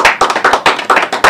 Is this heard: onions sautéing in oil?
no